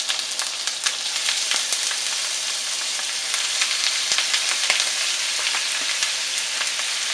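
Shrimp frying in a mix of oil and butter, a steady close sizzle with bright crackling pops spread throughout, loud and continuous with no talking.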